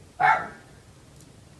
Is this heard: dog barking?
yes